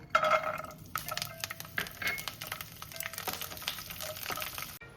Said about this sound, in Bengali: এবার ওই তেলের মধ্যেই রসুনটাকে ভেজে তুলে নেব